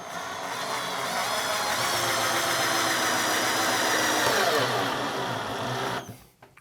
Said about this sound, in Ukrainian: повільно розпочати, щоб воно туди повільно вкручувалось, схватилось і газуємо.